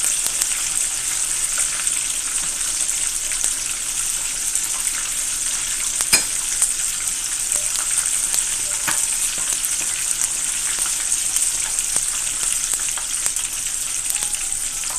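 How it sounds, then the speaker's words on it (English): Chicken wings deep frying in hot oil at home, a steady close crackling sizzle throughout with an occasional sharp pop, no voices. "I don't usually deep fry my wings"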